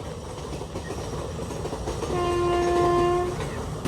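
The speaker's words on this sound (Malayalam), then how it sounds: "ഗുരുവായൂർ മധുരൈ എക്സ്പ്രസ് ആണ് പോകുന്നത്." A Guruvayur–Madurai express passenger train passing Munroe Island station in Kerala rumbles steadily, then sounds a sustained horn blast for about a second before it fades back into the rolling clatter.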